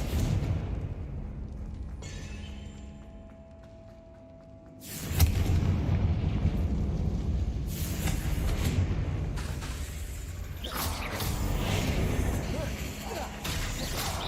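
A Confringo spell explosion in Hogwarts Legacy bursts in loudly after a quieter stretch, followed by rumbling booms and further blasts layered over game ambience.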